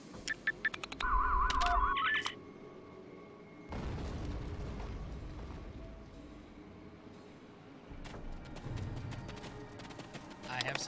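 Bombs explode in the video game Star Trek Online, with a deep booming blast followed by a second rumbling burst, plus clicks and clattering game effects and some talking in the background.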